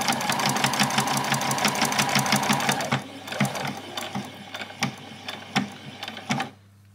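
Sewing machine stitching a doll's dress, a fast steady run of needle clatter for about three seconds, then short stop-and-start bursts of back-stitching, close and clear with no talking.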